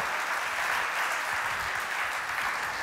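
A church congregation applauds together, a dense, even wash of clapping heard at a distance and held steady throughout.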